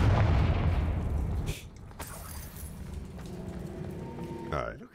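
A Confringo fire spell cast in Hogwarts Legacy erupts as a loud, booming explosion with a rumbling low-end burst, then fades into a quieter crackling rumble with a whooshing flourish near the end.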